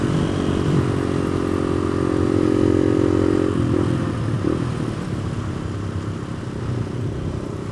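Suzuki DR200 motorcycle engine running steadily while riding, a loud continuous drone that eases slightly in pitch partway through, with some rattling clatter and wind, no voices.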